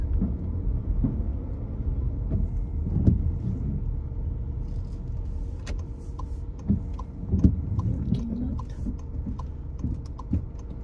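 A car creeps slowly through a tight, narrow passage with a low, steady engine rumble, broken by faint clicks and small knocks close by.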